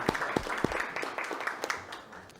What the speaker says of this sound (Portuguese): Uma salva de palmas também para o Alfredo aí